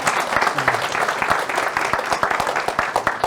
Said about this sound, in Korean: 공감이 되면은 박수를 한번 쳐주시면 좋을 것 같습니다.